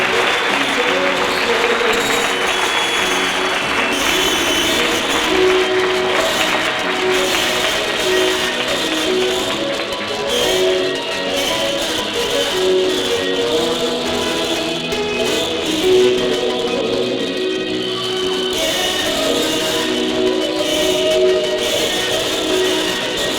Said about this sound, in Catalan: Un aplaudimiento bien fuerte.